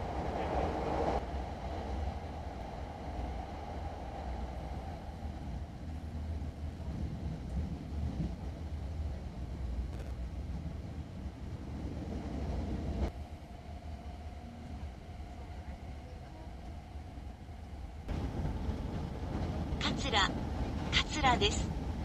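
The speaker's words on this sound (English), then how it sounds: "After Katsura, this train stops at Awaji." A Hankyu limited express train bound for Osaka-Umeda runs steadily on rails with a continuous rumble and rattling, followed near the end by a brief higher-pitched electronic tone.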